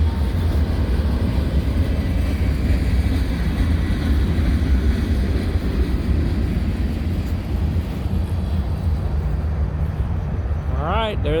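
A freight train passing at Canal Ridge Road, heard as a loud, continuous low rumble and clatter of rolling cars that holds through the whole stretch, with a brief higher squeal near the end.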